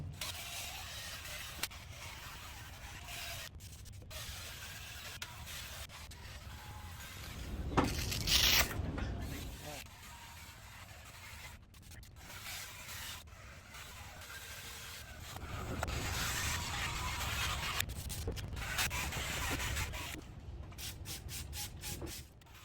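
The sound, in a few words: wet sanding a car headlight with sandpaper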